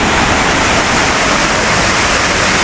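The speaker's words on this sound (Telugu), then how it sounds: "ఇంకా ఎలిఫెంట్ వాటర్ ఫాల్స్" Elephant Falls waterfall near Shillong in Meghalaya, a loud, steady roar of falling water that fills the whole stretch without a break, with no voices.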